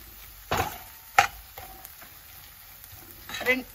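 Onion and dried fish masi with chili powder sautéing in a pan, a low frying hiss with a few sharp scraping strokes of the spatula, close by.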